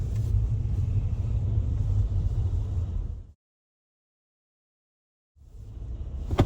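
Steady low engine rumble from inside a car easing up to a stop sign; it cuts out to complete silence for about two seconds, then the rumble returns at the same level.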